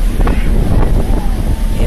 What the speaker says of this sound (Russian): ветрено